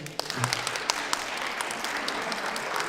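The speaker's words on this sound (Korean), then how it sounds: "박수 한번 주세요" Audience applause at a lunchtime concert: a full, steady round of clapping from a crowd that continues for the whole stretch, with a short voice heard briefly at the start.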